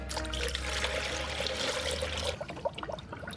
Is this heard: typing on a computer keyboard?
no